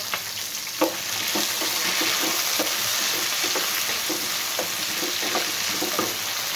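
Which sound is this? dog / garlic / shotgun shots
garlic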